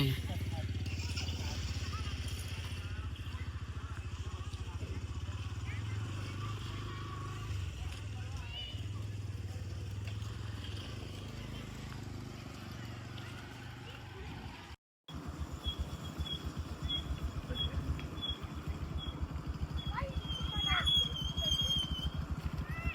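A motorbike rolls downhill away from the Mahakali temple at Sabali, its engine a steady close drone with wind rush, briefly cut off midway, then resuming with brighter chirps and squeaks.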